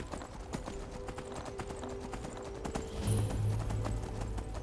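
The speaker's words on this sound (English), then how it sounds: "let's just try and rush past it on our stolen horse" Horse hooves clop in a quick galloping rhythm on a road at night in Skyrim VR, a fairly quiet steady series of footfalls with a louder rumble in the last seconds.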